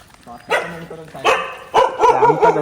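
Several loud, close dog barks in short bursts, a sharp yap followed by a quick run of barks near the end.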